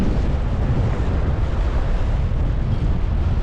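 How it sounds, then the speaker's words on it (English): Strong wind buffets the microphone on a fishing outing, a loud continuous low roar of gusts holding steady throughout with no talk. "it's super windy right now"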